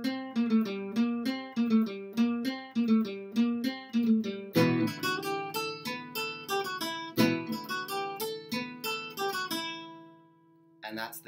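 A baritone ukulele plays a film theme as clear plucked and strummed chords in a driving repeated rhythm, close and solo, ending on a ringing chord and a last short strum.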